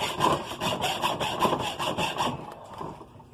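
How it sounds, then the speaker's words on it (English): A hacksaw cuts through the metal of an air conditioning unit in quick, rhythmic back-and-forth strokes, loud and close, slowing and stopping near the end with no talk. "Thank you, Mr. Hacksaw."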